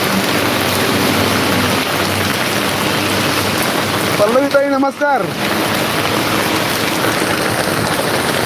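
Steady heavy rain hisses throughout, with a person speaking briefly over it near the middle.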